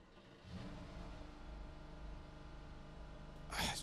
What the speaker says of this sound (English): So let's hear the car turning on.